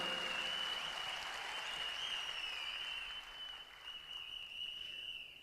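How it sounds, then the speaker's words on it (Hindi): A crowd applauds loudly and continuously at a direct selling company event, the clapping easing slightly toward the end, with a steady high tone ringing over it. "एक बार जोरदार ताली होनी चाहिए"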